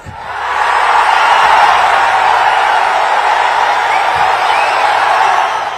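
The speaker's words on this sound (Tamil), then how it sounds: "எழுச்சி ஆரவாரம்." A large crowd roars and cheers in a steady, loud wash of voices that swells in and holds throughout, with scattered whoops.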